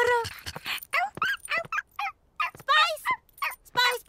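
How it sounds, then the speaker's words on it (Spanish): A cartoon puppy yaps and whines in a string of short, high, close yelps and whimpers with brief gaps between them, heard alone without talking. "¡Hola, cachorro!"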